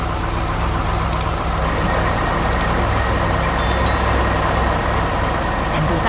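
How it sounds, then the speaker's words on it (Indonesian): A cement mixer truck working on a road construction site, with a steady loud engine drone and rumble throughout, punctuated by faint high beeps. "itu pengaduk semen yang sedang bekerja keras membangun jalan untuk kita semua"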